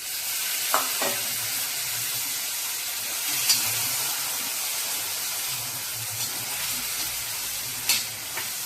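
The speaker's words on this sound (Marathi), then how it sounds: "हे मी हरभरे घालते" Boiled chickpeas sizzle and hiss in a hot frying pan, a steady bright frying noise with a few soft scraping stirs of the spoon, close and moderately quiet with no talking.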